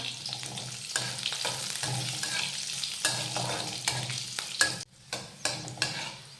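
Finely chopped green chillies and garlic sauté in a hot pan, a steady close sizzle broken by the scrape and clatter of a spatula stirring, with sharper knocks of the utensil toward the end.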